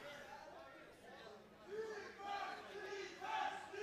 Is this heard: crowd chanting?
yes